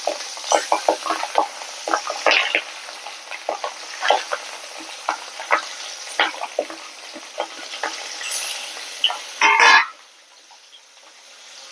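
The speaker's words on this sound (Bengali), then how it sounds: "তাই কালো জিরে ফোড়ন দিলাম আর একটা কাঁচা লঙ্কা ফোড়ন দিচ্ছি" Black cumin and a green chilli sizzle as a tempering in hot oil while a spoon scrapes and stirs in quick bursts. A loud surge near the end, as Pabda fish goes in, is followed by a much quieter simmer.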